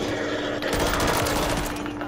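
Rapid machine-gun fire in a Call of Duty match, a sustained loud burst of automatic shots in the middle of the clip over steady background game noise.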